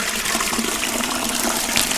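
Maple sap gushes steadily from a full collection bucket being emptied outdoors, a continuous splashing pour that runs for the full two seconds with no voices over it.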